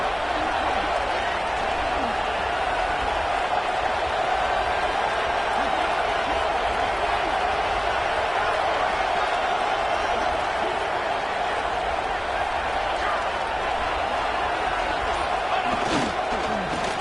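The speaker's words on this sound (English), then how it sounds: "And here comes the noise. This crowd is trying to inspire this defense to make a big red zone stop." A large stadium crowd at a college football game roars steadily throughout, a dense continuous wall of noise urging the defense in the red zone, with a commentator's voice over it.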